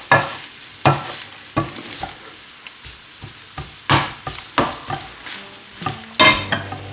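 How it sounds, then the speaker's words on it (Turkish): Minced meat and onion fry with tail fat for stuffed kibbeh filling, a soft sizzle punctuated by a dozen sharp spatula strikes and scrapes against the pan at an uneven rhythm, no talking. "Şimdi soğan da biraz kavrulsun şöyle."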